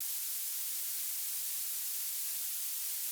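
Steady violet noise, a bright, sharp hiss weighted heavily toward the highest treble with almost no low end, holding constant and even throughout at moderate level, with no voices.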